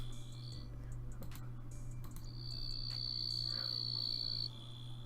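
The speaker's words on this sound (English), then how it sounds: "This is a cricket." A cricket chirps in a steady, continuous high trill, heard alone with no talk over a constant low hum.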